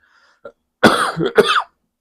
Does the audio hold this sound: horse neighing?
no